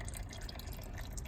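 Engine oil draining from a Ford Fusion into a catch pan: a faint, steady liquid trickle with light dripping, close and continuous through the short stretch.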